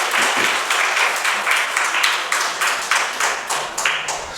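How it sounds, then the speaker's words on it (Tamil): Hearty applause from an audience at a Tamil seed paddy festival gathering, close and energetic, with the clapping falling into pulsing, almost rhythmic bursts throughout. "ஒரு பலமான ஒரு கைத்தட்டல் கொடுக்கலாம்"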